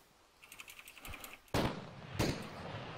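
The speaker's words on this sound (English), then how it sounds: "Oh, someone's shooting." Gunfire in the military video game Arma 3: a soft patter of distant rapid shots gives way to two loud, sharp bursts close by, with no talking.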